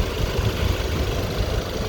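A 2014 Mercedes E63 4matic engine idles steadily with a low, even rumble and mild vibration, close by and uninterrupted.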